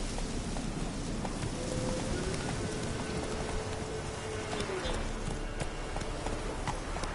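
Horse galloping in a video game, a fast rhythmic clip-clop of hooves under a continuous rain-like wash, with a faint tone drifting through the middle.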